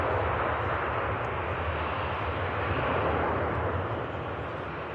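An EasyJet airliner taxis at Manchester Airport, its engines giving a steady broad roar that holds at even loudness throughout, with no talking.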